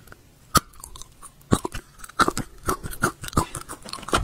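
Crisp crunching bites and chewing of a sweet cookie, close and loud, arriving as irregular sharp cracks and quicker crunch bursts with quiet pauses between.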